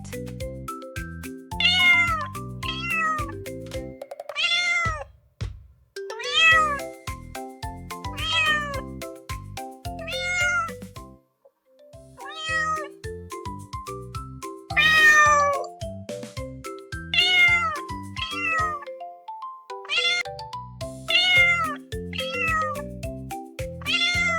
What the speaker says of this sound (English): C cat.